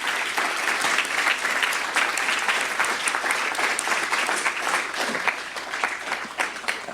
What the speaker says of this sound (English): an applause for our two brilliant panelists